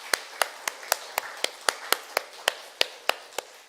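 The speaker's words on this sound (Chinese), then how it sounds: "咱拍手来甲陈志恩牧师来鼓掌欢迎" A church congregation at a Presbyterian service claps in unison to welcome a visiting pastor. Sharp, evenly spaced claps, about twelve in a steady rhythm, close and prominent.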